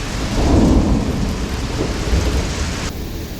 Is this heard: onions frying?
no